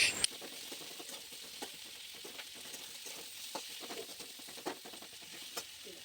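Onions and tomato fry in a pan for a green jackfruit and prawn curry, making a quiet, continuous sizzle broken by soft scraping and tapping stirs, with no one talking.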